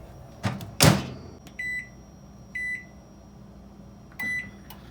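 A microwave oven heating salmon beeps several times in short electronic tones, after a door clunks open and shut nearby, over a low hum.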